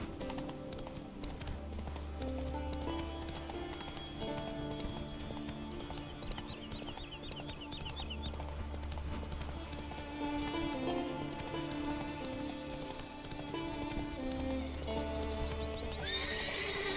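Roach, a horse in the video game The Witcher 3, trotting with a steady clip-clop of hooves, whinnying a few times, under a bed of light rain and game ambience.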